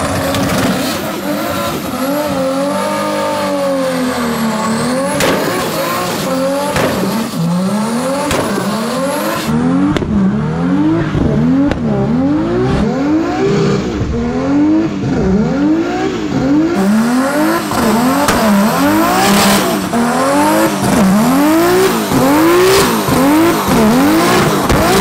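A 750hp Nissan R32 GTR, switched from AWD to RWD, revs hard in repeated rising and falling bursts while its tires squeal and skid, loud and close throughout with a brief dip midway.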